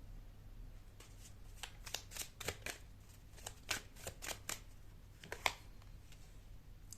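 Tarot cards being shuffled and handled, a run of crisp riffling flicks and soft slaps in bursts over roughly seven seconds, close and fairly quiet, with no talking.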